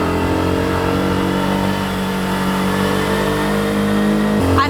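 A car engine hums steadily under load while climbing a winding mountain road between Kandy and Nuwara Eliya in Sri Lanka, holding a constant droning pitch before the tone drops off at the end.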